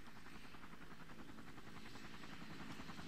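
A helicopter in the video game Far Cry thrums steadily with a continuous rotor chop, fairly faint and unbroken throughout, with no voices over it.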